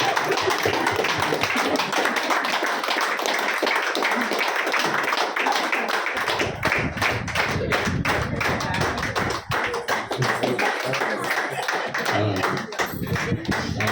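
An audience claps loudly for Santa Claus at a Christmas gathering held in a nutrition club, sustained rapid hand claps close by with a few voices mixed in.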